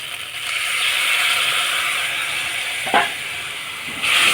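Ground ginger, onion, garlic and green chilli paste sautés in a pan after water is added, giving a steady soft sizzle with a brief stirring scrape near the end.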